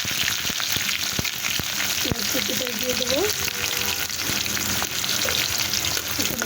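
Onions go into hot oil in a wok with cardamom, cinnamon and bay leaves, a strong continuous sizzle with clicks of stirring, while someone briefly speaks over it.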